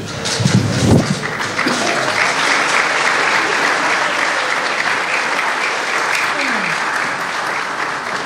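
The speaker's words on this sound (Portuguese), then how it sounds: "Uma salva de palmas para eles." An audience gives sustained, even applause for the Grupo dos Rapazes do Cabo da Praia at a 2024 performance. A dense wash of many hands clapping holds steady throughout, with a brief louder burst near the start.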